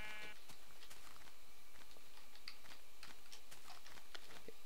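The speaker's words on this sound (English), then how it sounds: "there's one sheep" Blocky Minecraft sheep give several soft, scattered bleats over a few seconds, heard alone against a faint background of light clicks and taps.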